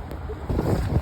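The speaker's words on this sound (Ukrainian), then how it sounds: "Ох, тут і вітер." Gusts of wind buffet the microphone outdoors in Kyiv near a bridge, a low roaring rush that swells louder halfway through, with no talking.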